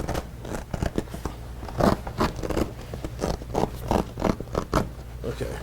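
A leather seat cover is worked off a 2009-2013 Ford F150 King Ranch/Lariat seat, with close, irregular bursts of rubbing, scraping and crinkling material in short tugs.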